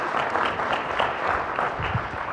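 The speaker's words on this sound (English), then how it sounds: "Let's give Rob a round of applause." An audience at a talk on marketing new product introductions applauds a speaker, a dense steady patter of many hands clapping with no voices over it.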